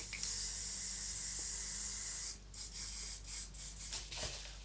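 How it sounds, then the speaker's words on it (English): Spray paint can hissing onto a scrap envelope as a test, a steady bright hiss for about two seconds followed by several short bursts of spraying. "A little test spray on a bit of scrap envelope."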